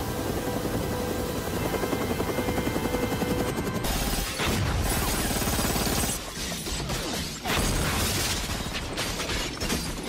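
Helicopter rotor thumping drones loudly through an action scene from The Matrix, mixed with crashing, shattering impacts and bursts of gunfire-like noise, the sound cutting abruptly between shots.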